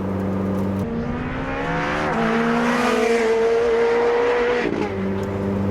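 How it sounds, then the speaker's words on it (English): A Ferrari 458 Speciale rated at 597bhp is driven hard on the Castle Combe track, its engine note climbing through rising revs with shifts, loud and close, then dropping near the end. "This is the 458 Speciale"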